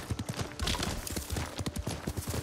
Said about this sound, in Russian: на лошади все-таки целесообразнее поехать